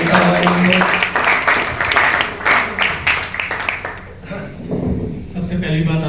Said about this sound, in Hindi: और एक बार अंकित जी के लिए जोरदार तालियां,